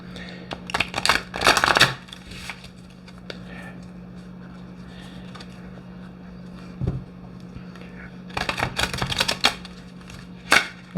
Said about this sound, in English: Let's see how it shuffles.